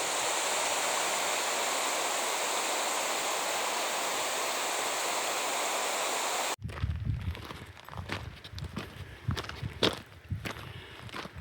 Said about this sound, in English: stream that flows down through a huge cut in the hill, making that lovely soothing sound of rushing water